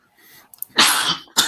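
A person gives a sharp, close sneeze with a short breathy lead-in, followed by a second quick burst, in a quiet room.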